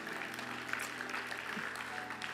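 A church congregation applauding during a sermon: a dense, steady clatter of many hands clapping together, fairly loud and continuous throughout, with no clear voices on top.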